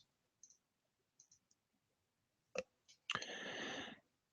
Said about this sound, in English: I'm just going to click Next.